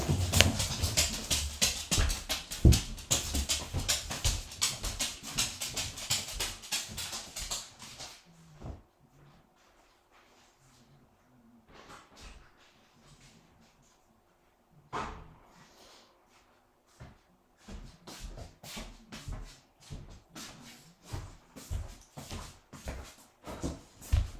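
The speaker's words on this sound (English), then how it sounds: "let me let my dogs out" Dogs being let out of a house: a loud, busy scramble of paws, jingling and clatter fills the first few seconds, then sporadic clicks and bumps continue more quietly.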